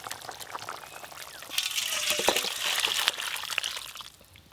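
Water pours and splashes steadily from a pot of boiled potato and bottle gourd being drained, a close, continuous gush that swells midway and tapers off at the end.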